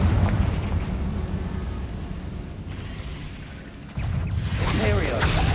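A Confringo blasting spell goes off in Hogwarts Legacy as a loud, rumbling explosion under a dense low roar, followed by a sharper burst of crackling debris near the end, with game ambience throughout.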